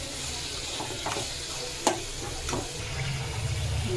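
Mutton pieces frying in oil until browned, a soft low sizzle with a few light clicks and one sharp tap of a utensil against the pan, close and fairly quiet, no voices.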